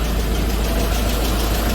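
A Ford Raptor engine idles with a steady, close, low rumble that holds even throughout, with no voices over it.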